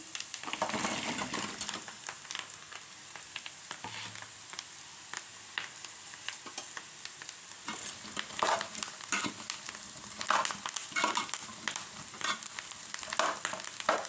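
Gobi (cauliflower) frying in a pan, a steady close sizzle with bursts of crackling and scraping stirring, continuous and fairly loud with no talking.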